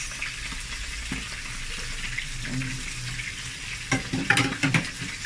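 Dried shrimp (hibi) hitting a hot frying pan and being stirred: a close, continuous sizzle with scraping stir strokes and a burst of louder crackling and clattering near the end, no talk.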